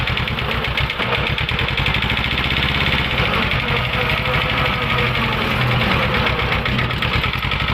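An old imported single-axle 16 hp walking tractor engine runs steadily and loudly while cutting grass in a small oil palm plantation, its rapid knocking chug continuous and close throughout, with faint voices beneath it.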